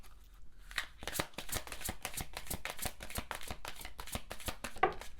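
Tarot cards riffled and shuffled by hand during a love reading, a steady run of soft papery flicks and snaps, close and quiet, with no talking.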